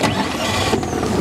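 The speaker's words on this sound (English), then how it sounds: "this engine's electric start" An outboard engine on a Cardigan Bay coble fishing boat in Wales fires up on its electric starter, a loud, close, continuous mechanical churn that catches and runs throughout the short burst.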